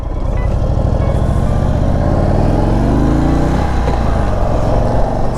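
A 2022 Indian Chief Bobber Darkhorse motorcycle is ridden at close range with a loud, steady, deep engine rumble. Its pitch climbs as the bike accelerates, then drops sharply with a gear change about two-thirds of the way through.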